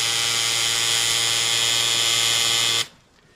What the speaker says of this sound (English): If you'll notice the angle that I have the tattoo machine itself